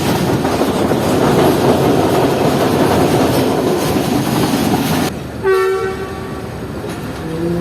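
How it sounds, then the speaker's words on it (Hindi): Pakistan Railways locomotive ZCU-6353 sounds a loud, sustained whistle blast at a station. It cuts in after several seconds of steady, dense rumbling train noise, then the tone holds and shifts in pitch near the end. "ZCU-6353 का विसल था ये जो आपने सुना।"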